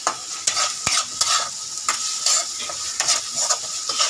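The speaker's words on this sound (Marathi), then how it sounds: "फ्राय करत राहा तुम्ही मसाला। आणि हा आहे गरम मसाला, गरम मसाला टाकूया। फ्राय करत राहा" Mutton masala with garam masala sizzles in hot oil in a pan while a spoon stirs and scrapes repeatedly, the frying hiss steady underneath the metallic strokes.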